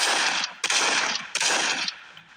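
Gunfire from the video game Los Angeles Crimes: loud automatic bursts, about three long volleys in quick succession with short gaps, filling the clip on their own.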